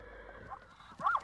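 A horse whinnies briefly and fairly faintly near the end, a short rising neigh over quiet outdoor background.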